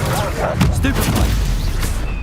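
A Stupefy spell cast in Hogwarts Legacy, heard as a few sharp magical bursts and booming impacts over a dense, continuous game soundscape, with a voice speaking alongside.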